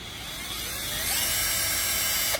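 An Enzo 48V cordless drill, black and orange with a large motor, runs at variable speed: a close, steady motor whine that builds slightly in pitch and loudness, then cuts off abruptly near the end, with no talking.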